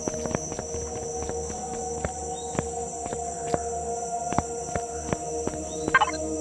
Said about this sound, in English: I think the footsteps we hear are coming from below.